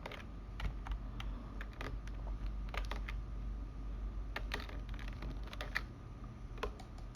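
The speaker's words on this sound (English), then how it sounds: "I'm just going to press Ctrl plus Z." Keys tapped on a computer keyboard, a quick Ctrl plus Z undo shortcut during AutoCAD drafting work: scattered sharp clicks spread across several seconds, close and fairly crisp over a steady low hum of room noise.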